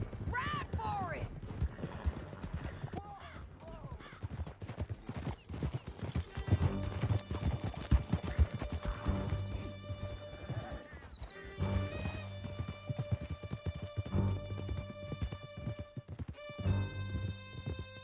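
Horses galloping through a canyon, a fast clatter of hooves with whinnies, crashes and shouted voices on top, then giving way to sustained music.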